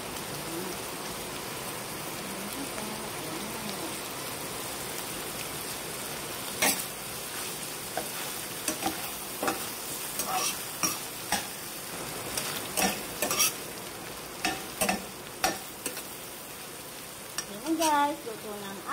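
Butter shrimp with tofu (tokwa) and sliced long green chili sizzles steadily in a pan, with intermittent louder scraping and stirring clatters from about seven seconds on, close and alone without talk.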